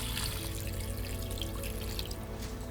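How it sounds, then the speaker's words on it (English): Water is poured into a cooking pot set over an open fire, making a steady, close splashing trickle that runs continuously over a faint low hum. "we'll go ahead and add some water in it"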